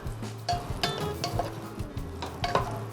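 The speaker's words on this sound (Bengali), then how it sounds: "আমরা সরাসরি আলুটাকে ঘিয়ে ফ্রাই করব" Potatoes fry directly in hot ghee for a Peshawari beef dish, giving a steady close sizzle broken by several sharp scraping stirs of a utensil against the pan, with no talk.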